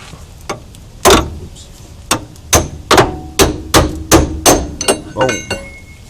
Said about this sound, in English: You start whacking away.